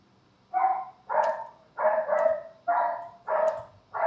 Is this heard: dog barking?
yes